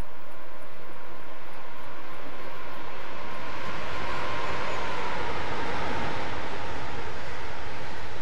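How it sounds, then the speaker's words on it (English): A train passing by a bridge on the West Coast Main Line over Shap in Train Simulator 2014: a broad, steady rumble that swells toward the middle and stays loud, with no talking over it. "That's a good train by right there at the bridge."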